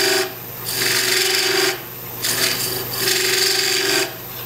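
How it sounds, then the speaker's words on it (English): A woodturning tool cuts a chamfer inside the end of a small wood block, giving three rasping bursts of cutting over a steady machine hum, close and fairly loud. "Let's do a chamfer on the inside."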